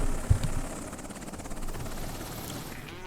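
A Chinook helicopter in a war video game set in Afghanistan chops faintly and steadily in the background, with a soft thump near the start and no voices.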